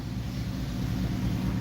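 Chevrolet Camaro fitted with headers and a light tune passes in traffic on a Detroit road near an I-94 merge, giving a deep, continuous rumbling drone mixed with road noise.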